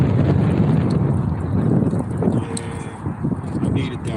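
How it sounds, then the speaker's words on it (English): Gusty wind rushes steadily across an outdoor microphone on a windy day, a loud broadband buffeting that persists throughout. "Nice day, but it's windy."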